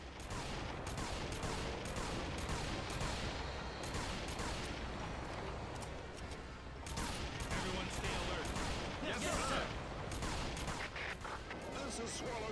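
Rapid bursts of cannon and gunfire boom continuously amid a busy Earth Defense Force 5 game soundscape, dense and loud throughout, with a voice briefly heard.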